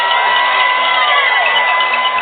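Marathon spectators cheering runners along a big-city course: a loud, continuous wash of crowd noise with whoops and shouts, steady for a couple of seconds.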